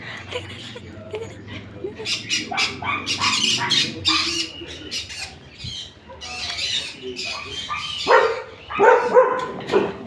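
A dog yaps and barks excitedly in rapid bursts, close and fairly loud, with people talking around it.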